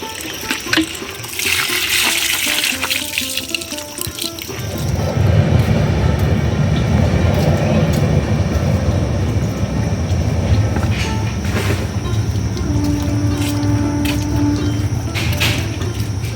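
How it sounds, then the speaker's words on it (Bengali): A train rolls past on a rail line right in front of a house, a loud, continuous rumbling roar that swells in after a few quieter seconds and holds steady with occasional higher squeals. "সামনে দিয়ে ট্রেন যায়"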